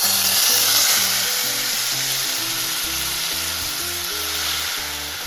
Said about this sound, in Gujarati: હવે આપણે ડુંગળીની ગ્રેવી કરી નાખી દેવાની છે.